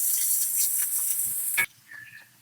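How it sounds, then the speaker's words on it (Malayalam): Chopped onions fry in a pan for a taro masala with a bright sizzling hiss and light stirring. A sharp knock follows, then the sizzle drops away to near quiet with a faint clatter. "അതിനകത്തേക്ക് കുറച്ച് ചോപ്പ് ചെയ്ത് ചെറുതായിട്ട് അരിഞ്ഞ ഉള്ളി ഉള്ളി ഇട്ട് കൊടുക്കാം ഉള്ളി ഒന്ന് പൊതിയായിട്ടൊന്ന് മൂത്ത് വരട്ടെ"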